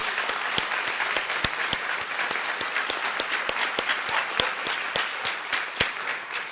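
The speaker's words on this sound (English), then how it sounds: "just one last round of applause for all of the amazing people up here tonight" An audience at a school Founder's Day evening gives a closing round of applause, a sustained wash of many hands with sharper individual claps popping out near the front, steady throughout.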